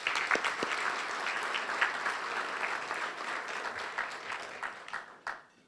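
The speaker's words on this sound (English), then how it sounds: "Let's give them a big round of applause." An audience at a state of the city event applauds city council members with sustained, evenly dense clapping that fades out toward the end.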